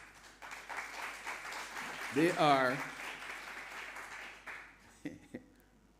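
Broad applause with many hands clapping from an audience at an art exhibition opening ceremony, steady through most of the stretch, while a voice speaks over it and a brief tone rises midway.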